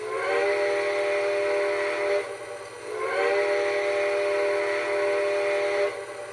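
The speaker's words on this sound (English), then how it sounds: "behind the cab is our whistle, and this has whistle steam" A Strasburg Camelback 771 model steam locomotive whistle blows two sustained, breathy tones, each a couple of seconds long with a short gap, over a steady background hiss.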